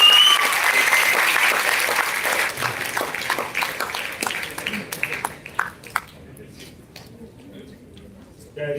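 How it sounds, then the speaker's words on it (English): A valedictory function audience applauds loudly at first, then the clapping thins into scattered individual claps and fades out, with a faint voice near the end. "So please once again give a big round of applause."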